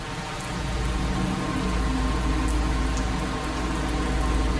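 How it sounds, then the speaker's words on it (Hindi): Steady rain falls over an Indian Air Force helicopter base during a monsoon spell, a dense continuous patter with low rumble underneath, moderately loud and without speech. "यहाँ कई दिनों से बारिश हो रही है"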